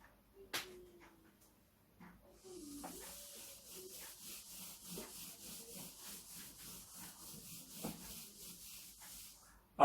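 Eraser rubs writing off a classroom board in a steady back-and-forth scrubbing rhythm, soft and close, with brief faint murmurs before it starts.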